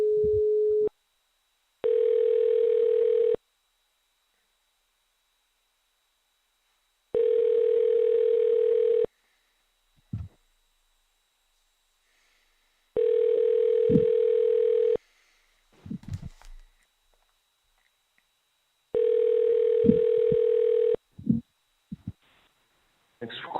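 Outgoing telephone ringback tone from a phone call to a scam caller, four long steady tone bursts repeating in a regular on-off rhythm with brief clicks and faint noise between rings, no talking.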